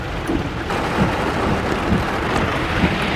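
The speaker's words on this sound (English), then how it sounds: "It's pouring outside, and if you can't hear the rain," Heavy rain pouring down outside, a dense, steady hiss of falling water with faint low rumbling beneath, loud and unbroken.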